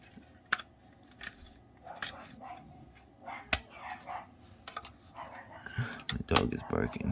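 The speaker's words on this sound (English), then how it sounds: "My dog is barking." A pet dog barks several times in a home, sharp irregular barks mixed with faint clatter and a person talking nearby.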